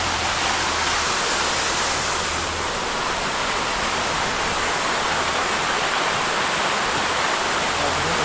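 Steady, full roar of Periyar Falls in the Kalvarayan Hills, broad rushing water noise that stays constant throughout with no voices.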